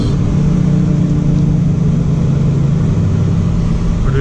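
A VW Golf TSI engine accelerates under pressed throttle, heard from inside the car as a loud, steady low rumble and drone that holds for a few seconds with road noise.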